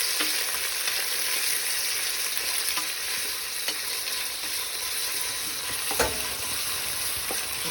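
Two large onions are stirred and fried in a pan for kuska biryani, with a constant close sizzle and occasional scraping and clinking of the spoon against the pan.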